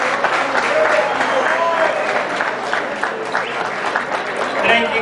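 A festival crowd at the Fiesta del Pescador gives a big round of applause for the host's wife. Thick, continuous clapping runs for about five seconds at a steady level, with no pause.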